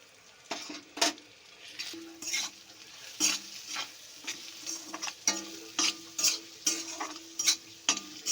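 A spoon scrapes in rhythmic, repeated strokes as spices are stirred into jackfruit seeds and bata fish cooking in a pan, over a soft sizzle with metallic clinks.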